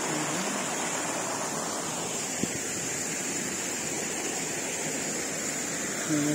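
Steady rushing water flows through a sulfurous thermal valley in Beitou, Taiwan, a continuous broadband hiss with no breaks, heard alone without talk.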